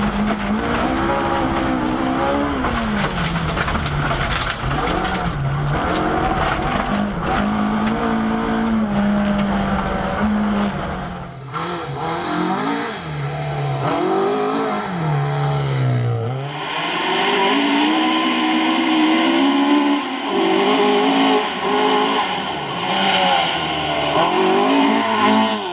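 Two-wheel drive Ford Escort Mark II rally car roaring past at full throttle on a Scottish rally stage, engine note rising and falling through gear changes with tyre noise, loud and close, then a second pass after a brief dip.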